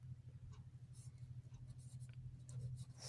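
Someone writes by hand on paper while working a Class 10 math problem, producing faint, quick scratchy pen strokes in short repeated bursts over a low steady hum.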